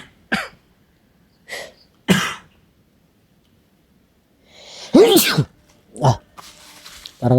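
Several separate coughs, close and fairly loud, spaced out with quiet gaps, ending in a rougher burst of coughing.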